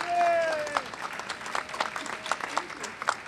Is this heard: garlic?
no